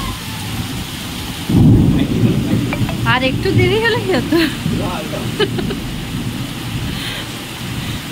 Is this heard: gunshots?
no